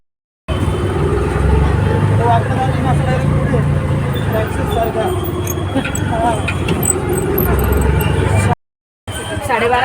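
Riding inside an auto rickshaw: a steady, loud engine and road rumble carries on under busy chatter from people, with traffic noise around and a brief cut near the end.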